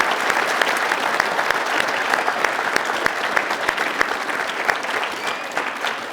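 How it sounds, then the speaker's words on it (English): Loud, dense audience applause fills the room, a constant wash of many hands clapping with scattered crisp individual claps, steady and sustained throughout with no talking over it. "that's a round of applause right there"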